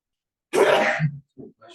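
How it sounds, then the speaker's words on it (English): A single loud, explosive sneeze up close, followed by a couple of brief, quieter vocal sounds. "Well, that's a sneeze."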